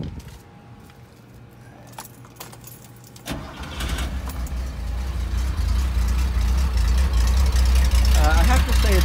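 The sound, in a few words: car engine started and idling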